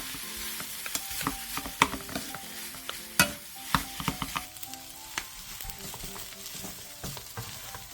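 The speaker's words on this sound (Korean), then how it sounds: "그 다음 찬밥 한 공기를 넣고 골고루 볶아주세요." Cold cooked rice being stir-fried in a pan with kimchi, giving a continuous sizzle broken by frequent sharp scrapes and knocks of the spatula against the pan, close and fairly loud, with no talking.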